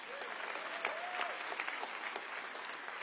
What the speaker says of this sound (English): give yourselves a round of applause for coming out in the snow.